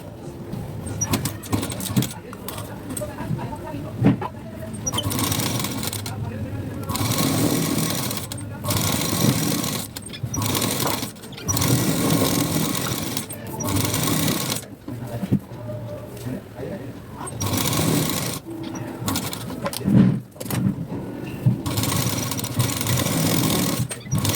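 A sewing machine stitches blouse pieces in short repeated bursts of rapid mechanical clatter, stopping and starting, while someone talks throughout and birds coo faintly in the background.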